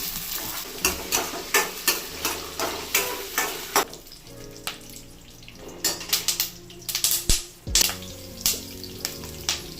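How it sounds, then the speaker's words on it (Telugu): Cumin seeds and chana dal fry in a pan for atukula upma, with loud sizzling and a rhythmic scrape-and-clatter of stirring against the pan. "జీలకర్ర కూడా కొద్దిగా వేసి అలాగే శనగ పలుకులు కూడా వేసి ద్వారగా వేపుతాము"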